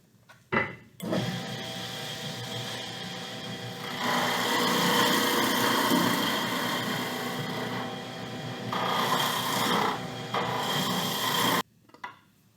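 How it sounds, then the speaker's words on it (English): A wood lathe turning a piece of wood starts after a quiet moment, then whirs steadily while the cut rubs and rasps in louder stretches before the machine stops near the end. "So I'm going to plug the machine back in and I'll continue turning."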